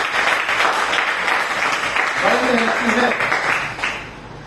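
Audience clapping and applause at an indoor Hindi-language meeting, a steady dense patter of many hands running throughout under someone speaking, fading slightly at the end.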